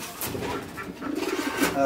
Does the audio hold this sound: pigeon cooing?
yes